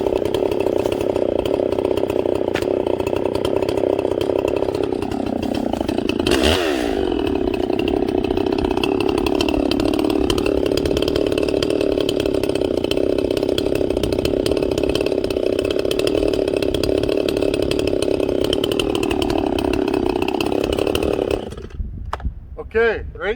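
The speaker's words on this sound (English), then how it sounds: "did you hear the saw was starting to get rich again?" A ported chainsaw running loud and close during break-in while cutting wood for the first time. Its engine holds a steady high drone with small pitch dips and a brief surge, and the snarl drops off abruptly near the end. A voice speaks briefly over it.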